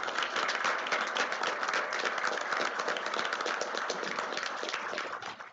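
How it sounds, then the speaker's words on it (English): Sustained audience applause for scholars at a school district board meeting, a steady dense roar of many hands clapping that fades out at the very end. "a round of applause for all our scholars."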